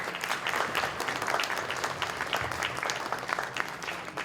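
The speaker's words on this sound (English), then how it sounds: "Give him a big round of applause," Audience applause at a ward 12 city by-election candidates debate in Edmonton, a dense burst of clapping for about four seconds, fairly close and unbroken by talk.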